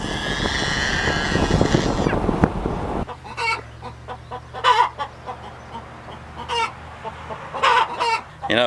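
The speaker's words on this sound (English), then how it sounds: "That's one thing I do like about chickens is, man, they get so proud about laying an egg." Chickens cluck loudly and proudly after laying an egg, in repeated sharp bursts close by, following a stretch of louder mixed noise at the start.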